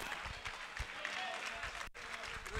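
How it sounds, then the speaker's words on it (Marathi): Spectators applaud a fine piece of fielding at a local cricket tournament match, a steady wash of clapping from the crowd around the ground, moderately loud and continuous with a brief dip near the end. "रोहित रामानेसाठी मात्र प्रेक्षकांच्या टाळ्या दाखवून देतात की काय दर्जाचं क्षेत्ररक्षण होतं"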